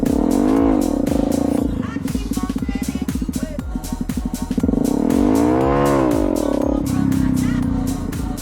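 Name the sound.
Honda CRF250L motorcycle engine revving in parking lot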